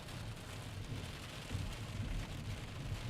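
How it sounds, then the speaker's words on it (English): Steady rain falling during a nighttime thunderstorm, a continuous wash of drops with low rumbling that swells slightly partway through, heard alone with no voices. "these are just good old-fashioned thunderstorms tonight"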